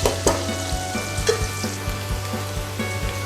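Ingredients for a vegetable biryani fry in a pan with a steady, close sizzle and crackle, broken by a few louder pops and stirring scrapes, and no voices.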